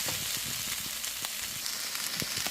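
Lumpia filling sizzles as it cooks down in a pan, a steady close frying hiss with small pops and stirring scrapes, without talk.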